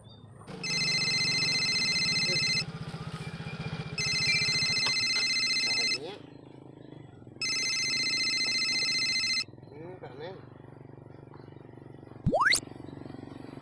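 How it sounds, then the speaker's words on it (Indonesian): A telephone rings in three long electronic bursts separated by short pauses, with faint background noise between rings. "Telepon si Kang Dudu aja dulu deh"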